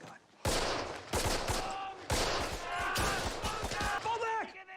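Machine-gun fire in a war drama episode: repeated loud bursts of rapid automatic shots, several separate volleys close together, with voices heard shouting among the gunfire.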